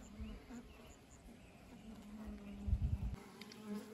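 A small wild honey bee swarm hums inside a swarm trap hung in a tree in the woods, a faint, close, continuous buzzing with a few slightly louder swells.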